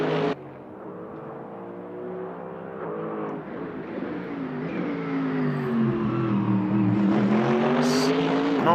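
Mercedes AMG race car in a racing game, styled after late-1990s to early-2000s McLaren cars, its engine droning steadily and rising in pitch as it accelerates, loud and continuous with faint commentary beneath.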